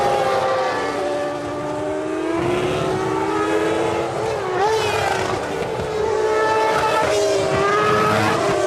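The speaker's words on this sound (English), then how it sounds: "Lewis Hamilton is still at the head of the chain, in front of his teammate Alonso, the defending world champion, behind the safety car in the rain here at Fuji." Formula 1 cars at the 2007 Japanese Grand Prix at Fuji circulate behind the safety car in the rain, a continuous high engine whine with rising and falling pitches from several passing cars, loud and sustained.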